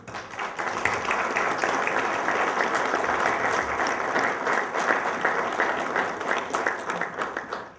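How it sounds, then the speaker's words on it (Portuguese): Sustained applause from an audience at a book launch tribute in a Portuguese community hall, a dense steady wash of many hands clapping at moderate volume for about eight seconds, tapering slightly at the end. "aqui pedia uma salva de palmas para o nosso amigo Vítor Santos"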